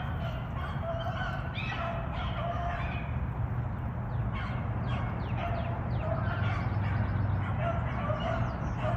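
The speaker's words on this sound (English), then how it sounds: "Birds." Birds calling outdoors during a rainy-day rabbit hunt, a busy chatter of chirps and clucking calls over steady rain-like noise, moderately loud and continuous.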